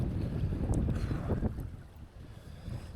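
Gusting wind during a bass and pike fishing outing on the water, a steady low rumble and buffeting close to the microphone that eases slightly partway through, with no talking.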